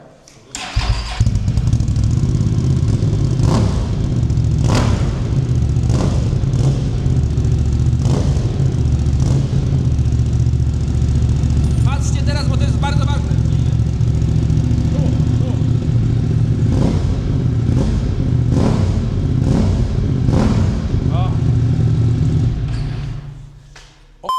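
A Moto Morini X-Cape 1200 motorcycle engine roars close by with a loud, throaty exhaust, revving up several times over a steady rumbling idle, with no talking.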